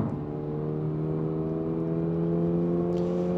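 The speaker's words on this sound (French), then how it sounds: "Alors le son du moteur n'est pas mal." A Toyota GR86 engine pulls hard on a race track during a track day, a steady, loud, close drone that rises slightly in pitch as it accelerates, with no talking.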